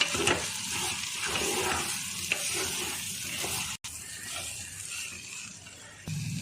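Prawn biryani mixture and ghee being stirred in a pot, giving a steady scraping and sizzling with a brief gap partway through, close and fairly loud, with no talking.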